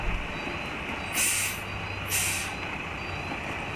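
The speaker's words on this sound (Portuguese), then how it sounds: "aparentemente é um caminhão a gás" Low rumbling gas-powered truck engine idling, with two sharp hissing bursts of air brakes releasing about a second apart.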